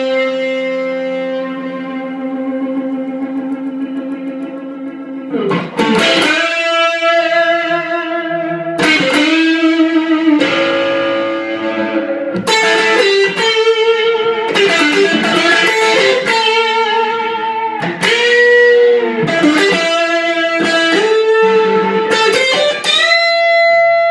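An electric guitar played through an Xotic AC Booster pedal set halfway on volume and boost, into a Super Reverb amp, holding long sustained notes and chords with bright harmonic overtones, loud and close with no talking.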